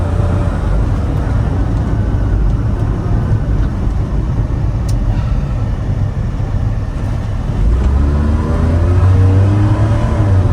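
A 1993 Suzuki Carry Joy Pop kei van with automatic transmission and A/C drives along, its small engine humming steadily from inside the cab, with road rumble and the revs rising toward the end.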